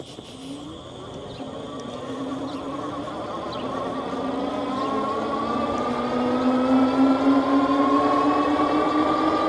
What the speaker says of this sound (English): Now we'll use the twist throttle and let's see how fast we can go with just the throttle.